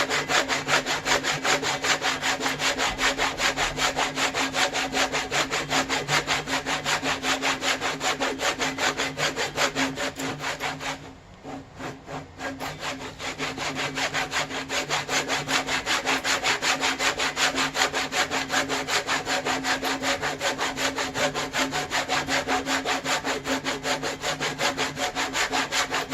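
Hand saw ripping through timber along a scored line for a timber-frame gazebo, steady back-and-forth strokes close up and loud, with a brief pause near the middle before sawing resumes.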